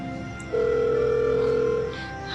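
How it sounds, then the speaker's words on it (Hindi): A steady electronic phone tone drones for over a second, then cuts off; no ringing or connection follows, with faint room noise around it. "मैं एक बार अपने फोन से ट्राई करके देखती हूँ।"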